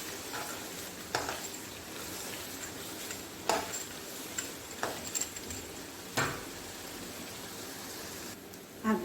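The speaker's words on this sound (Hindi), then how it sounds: "और थोड़ा सा मैंने इसमें पकाना है थोड़ा सा, ताकि ग्रीन मिर्चों का जायका भी इसमें आ जाए।" Mutton karahi cooking with green chilies gives a steady low sizzle, broken by several sharp clinks and scrapes of a stirring utensil against the wok.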